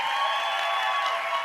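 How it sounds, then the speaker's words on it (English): Steady applause from a crowd, a dense even patter of clapping with no pauses. "Give her a round of applause."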